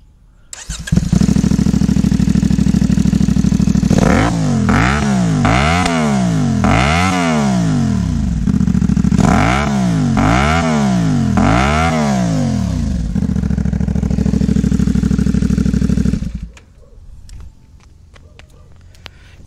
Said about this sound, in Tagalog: this is the sound of a single silencer and a single open pipe